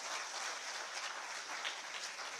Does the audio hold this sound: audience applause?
yes